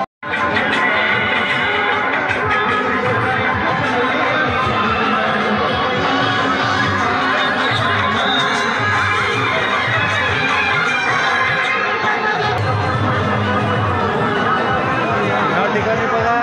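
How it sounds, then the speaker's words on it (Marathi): Crowd chatter swells at a village fair held for the Shambhu Mahadev temple festival, with many voices babbling close by in a steady, unbroken hubbub. "थोडी गर्दी आता व्हायला लागलेली आहे"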